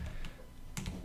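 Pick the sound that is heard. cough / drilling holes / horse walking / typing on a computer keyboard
typing on a computer keyboard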